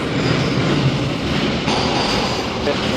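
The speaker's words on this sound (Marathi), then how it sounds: "हे बाबा ट्रेन येते आहे बघा माझ्या मते आता ही असेल नाही मालगाडी आहे" A goods train rolls into a railway station, a dense continuous rumble and rattle of wagons close by, steady and loud throughout with no voices.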